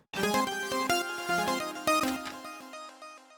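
A bright Vacuum Pro synthesizer lead with Air Reverb plays a quick run of plucky notes that ring out and fade, moderately quiet and alone.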